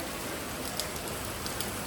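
Rain falls steadily outdoors during a downpour, a soft, even wash of hiss with a few faint drips and taps standing out, quiet and continuous throughout.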